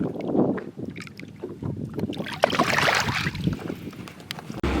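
A bass boat idles on Lake St. Clair, its low engine rumble steady under gusting wind buffeting the microphone and faint water sounds, close and moderately loud.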